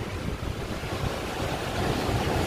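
Ocean waves wash onto a beach in Vizag, making a brief, steady surf rumble mixed with wind buffeting the microphone.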